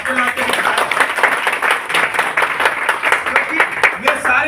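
Audience applause for someone being thanked at a Bhagavad Gita themed motivational gathering, a steady dense wash of many hands clapping that holds evenly and fills the room.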